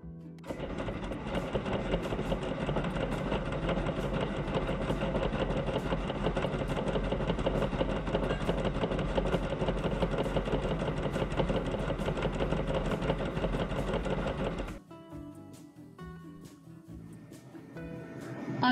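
A sewing machine stitches diagonal lines across batting for a reversible ice cream cozy, running as a loud, steady mechanical drone for about fifteen seconds before stopping, followed by quieter handling noise.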